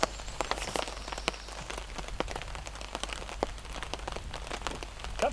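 Rain pattering steadily on a bushcraft camp in the woods, with dense scattered drops tapping the surfaces close by over a low constant hiss, continuing throughout with no talk.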